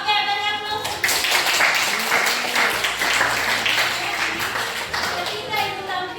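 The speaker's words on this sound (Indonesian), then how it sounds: "Oke, beri aplaus." A roomful of people applauding at an academic coaching session, dense steady clapping that fills the space, loud and sustained throughout, with a voice talking faintly underneath.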